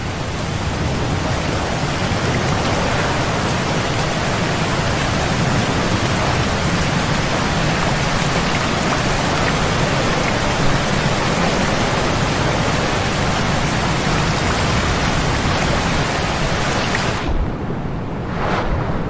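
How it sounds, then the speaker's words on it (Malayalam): Water crashes down a waterfall as people wade in, a loud, steady roar of falling water that fills the whole stretch without pause, then breaks off abruptly near the end. "വാ നമുക്ക് വെള്ളച്ചാട്ടത്തിനകത്ത് ഇറങ്ങാം വാ വാ വാ"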